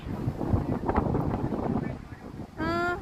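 Strong wind at the skyway observatory roars and buffets against the microphone in a rough, steady rush, dropping away briefly before a short tonal whine rises near the end.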